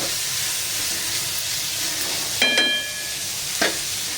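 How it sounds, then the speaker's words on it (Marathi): Onion and coconut masala for Malvani chicken roasting in a pan, a steady soft sizzle with a couple of sharp stirring scrapes partway through. "आता हा मसाला चांगला आपल्याला इथे भाजून घ्यायचा आहे।"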